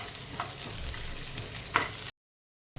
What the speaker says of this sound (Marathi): टाकूयात थोडंसं तेल आणि कांदा छान भाजून घेऊयात